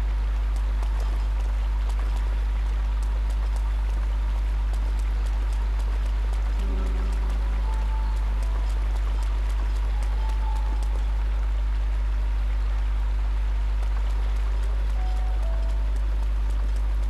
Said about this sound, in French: Puis il pleut en plus.